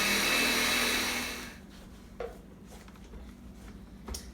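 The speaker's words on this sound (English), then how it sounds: "It gets really messy in the blender" A blender whirs loudly while blending a thick mixture of date paste and black beans, then winds down and stops, leaving faint clatter and a few small knocks.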